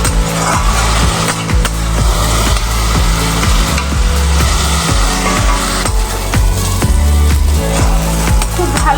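Spice masala sizzles steadily in a pan for mixed dal, with a spatula scraping and stirring in a regular rhythm of close, sharp knocks throughout.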